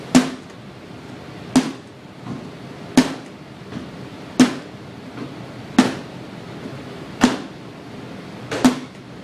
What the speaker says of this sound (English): This is 1 cycle per 1 second for sound.